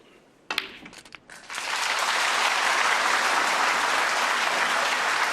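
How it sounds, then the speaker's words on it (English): Audience applause at a snooker final swells after a few brief clicks and knocks, then holds as loud, sustained clapping filling the arena. "And that applause is well deserved"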